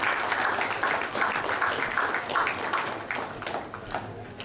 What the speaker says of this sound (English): I'd just like you to take a moment to give them a round of applause.